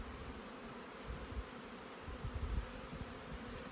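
Honeybees buzz in a dense, steady drone at an open hive during a split, close by and fairly faint, with occasional louder passes of individual bees.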